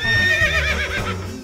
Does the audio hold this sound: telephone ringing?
no